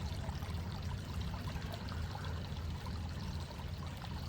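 A small creek flows through the woods as a soft, steady wash of trickling water, faint and continuous with no voices.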